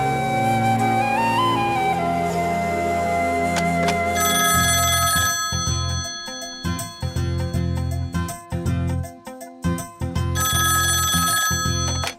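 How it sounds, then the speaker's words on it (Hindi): A telephone rings loudly and repeatedly at home, a steady electronic ringing that keeps going with bright tones, briefly broken up by a few knocks and clatters before it resumes. "किसका फोन है माँ?"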